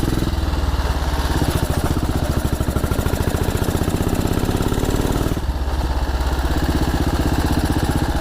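A 1944 rigid Ariel trials motorcycle engine runs loud and close while green laning, its rapid pulsing beat steady, with a brief dip in the throttle before picking back up.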